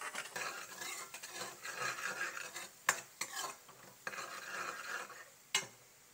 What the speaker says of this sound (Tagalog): Ipapabrown muna natin yung ating garlic.